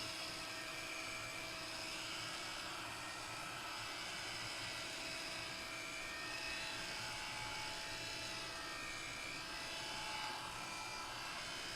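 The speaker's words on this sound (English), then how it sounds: "This is not a hairdryer, it's a heat gun." A steady, continuous roaring whoosh of a heat gun blowing, loud and unchanging throughout with no pauses.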